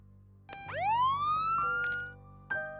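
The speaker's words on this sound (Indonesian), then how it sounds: "Dia membunyikan suara sirine polisi melalui aplikasi di HP-nya." A police siren plays from a smartphone app, rising in a clear electronic wail that holds steady for a couple of seconds, with short bursts and a brief restart near the end, loud and alone.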